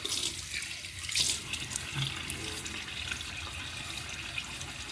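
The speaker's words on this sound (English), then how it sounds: "So I'm gonna get my face wet a little bit." Tap water running into a sink while someone wets their face before a shave, a steady close splashing wash that continues throughout with small surges.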